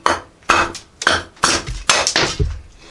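A thin BCMW W2 64rc cleaver strikes a board about six times in an uneven rhythm, each sharp chop followed by a quick rattling bounce, close and distinct.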